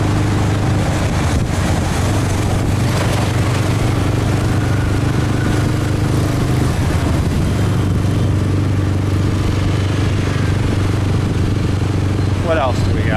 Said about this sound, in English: Shift up the gear so we don't get droned out by the motorbike.